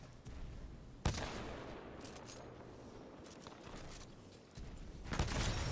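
Sniper rifle fire in the video game Titanfall 2: two sharp, loud shots about four seconds apart, separated by busy game noise in between.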